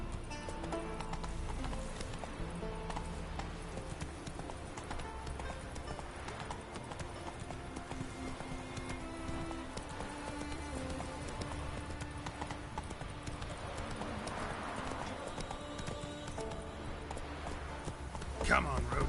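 Roach, a horse in a PlayStation 4 video game, gallops in a steady rapid clip-clop of hooves lasting throughout, with a voice heard briefly over the hoofbeats.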